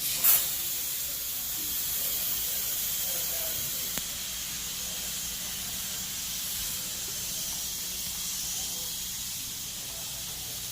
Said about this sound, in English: We're going to pre-spray the whole carpet